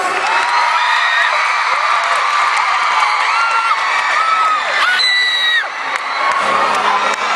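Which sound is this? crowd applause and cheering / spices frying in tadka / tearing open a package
crowd applause and cheering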